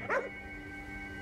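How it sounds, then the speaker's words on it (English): A single short dog bark sounds once, fairly faint, against a steady electronic hum in the video game Ghostwire: Tokyo. "What's he barking at?"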